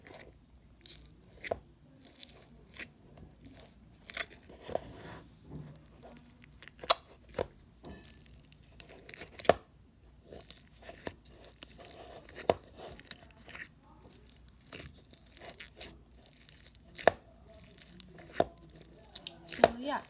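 Slime being squished and pressed by hand makes sharp, quiet clicks and pops at an uneven pace, close-up and soft against a near-silent background with no talking.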